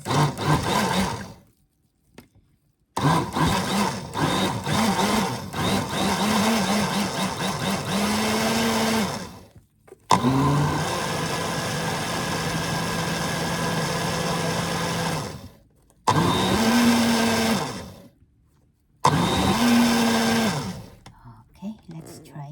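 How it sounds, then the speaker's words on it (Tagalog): A blender whirs through colorful fruit and water for a smoothie, loud and close, running in several long bursts broken by brief pauses. "Ang late kasi na itong blender."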